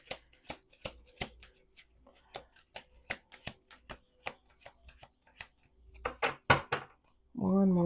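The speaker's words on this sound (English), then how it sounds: "Let's do 2 more shuffles." A deck of cards is shuffled by hand, a series of crisp, separate riffles and snaps close by, quiet between strokes, before a voice begins speaking at the end.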